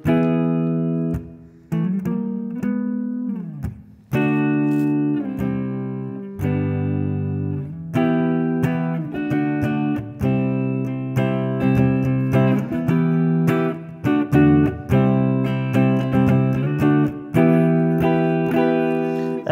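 Clean tone from a 1990 Gibson Les Paul Standard in tobacco sunburst, with chords and single notes ringing out clearly at a steady, moderate loudness throughout, no voices.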